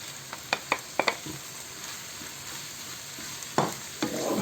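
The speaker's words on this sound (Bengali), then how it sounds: "একটু নাড়াচাড়া করে আমি এবার দিয়ে দেবো কিছু মশলা" Ground cumin, turmeric, coriander, chili powder and ginger paste sizzle in a pan for prawn malai curry, a steady close frying hiss broken by several sharp spatula scrapes early on, then one louder stir and a swelling sizzle at the end, with no talking.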